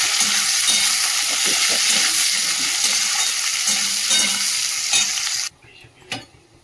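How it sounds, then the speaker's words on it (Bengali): Steady, loud sizzling of onions frying in hot oil, with occasional stirring scrapes, cutting off abruptly near the end to quieter clatter. "আর এদিকে যে মাংসের জন্য পেঁয়াজটা ভাজা হচ্ছে"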